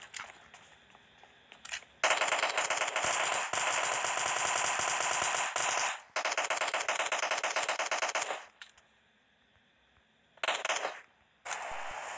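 Automatic gunfire in the mobile shooter PUBG Mobile Lite, loud rapid bursts of shots in long strings separated by brief pauses, close and dominant without speech.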